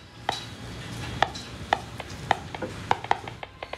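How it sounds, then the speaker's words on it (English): Low-voltage discharges from an electric fish, picked up by a two-pole rod and played through an amplifier, come through as sharp, irregular clicks over a faint hiss. There are about a dozen pops at an uneven pace, with no talking. "To hear them, he uses a rod with a positive and a negative pole that pick up the current from the discharges, which we can hear through the amplifier."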